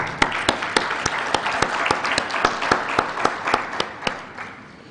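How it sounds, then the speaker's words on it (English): A conference audience at an emergency medicine meeting in Arusha gives a round of applause, dense clapping with a few sharp, loud individual claps standing out before it tapers off. "A round of applause."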